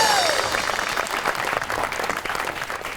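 A studio audience at a TV talk show gives a guest a burst of steady clapping. The applause is dense and fairly loud throughout.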